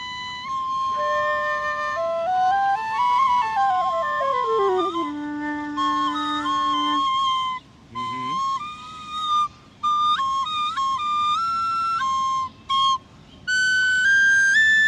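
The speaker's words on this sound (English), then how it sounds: "Oh, it's really good tone and the high octave. That's a nice whistle." A tin whistle plays a bright, high-pitched melody alone, holding clear sustained notes with a few brief pauses between phrases.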